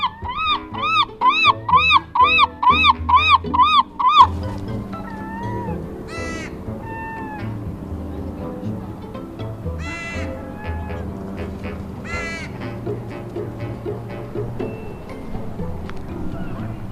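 Seagulls calling while gathered around French fries: a burst of loud, rhythmic repeated yelping calls up close, followed by scattered squawks and cries over a busy outdoor background.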